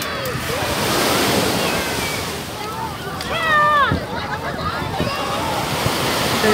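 Surf washes steadily onto Stanley beach, crowded with people and lined with tents, with wind buffeting the microphone and voices chatting close by over the rolling waves.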